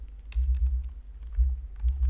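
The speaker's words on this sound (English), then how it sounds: "Oh, my keyboard's messing up." A computer keyboard clatters in a short burst of light, uneven key clicks. A low throbbing hum runs underneath. No one speaks.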